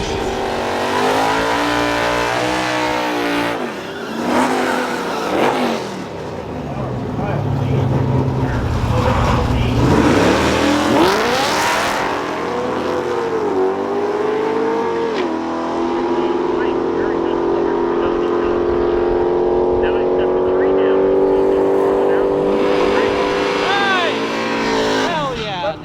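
A bracket drag racing car makes a run at PBIR in Florida, its loud engine revving hard and climbing through the gears with a rising roar, then easing off near the end, while people talk close by.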